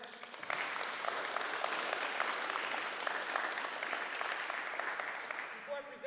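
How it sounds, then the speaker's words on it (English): Crowd clapping for a men's basketball team at a winter competition finals trophy presentation, a steady, moderately distant patter of applause lasting several seconds before tapering off at the end. "If we could just clap it up for them."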